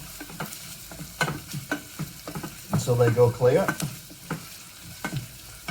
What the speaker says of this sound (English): the spaghetti is sizzling away there, and the onions, them two are now sizzling